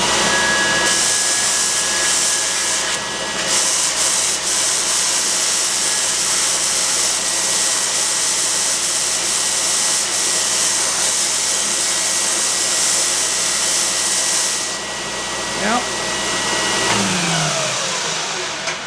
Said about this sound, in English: I think I'm going to give it a try on the belt sander here first